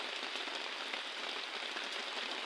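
Heavy rain pours down in a dense, even hiss, steady and unbroken throughout, with no voices.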